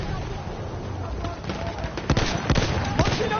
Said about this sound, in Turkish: Makinalı tüfek.